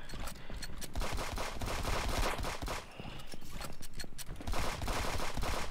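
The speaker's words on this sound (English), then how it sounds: "slow down time to just unload bullets" Gunfire in a shooter video game with power-up cards, dense and continuous bursts of shots sustained for several seconds with a brief dip near the middle.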